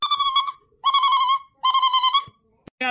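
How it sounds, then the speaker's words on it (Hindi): A mobile phone rings loudly and close, three long electronic warbling bursts separated by short gaps, then a couple of brief clicks. "फोन आवता उठावा"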